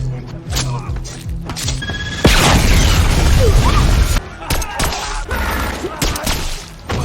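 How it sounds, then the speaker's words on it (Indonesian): A bomb goes off in a bar during an action film scene, a loud sustained blast and crashing burst of roughly two seconds that breaks into the quieter scene sounds around it. "tidak mengetahui kedatangan Levon sampai sebuah bom meledak."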